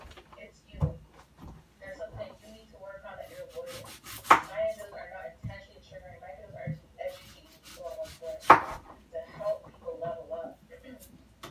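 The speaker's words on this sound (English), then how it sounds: "because I'm gonna cut up some onions." Onions being cut with a knife on a board: a run of irregular thuds and taps, a few louder knocks, with kitchen rustling and a person talking quietly at times.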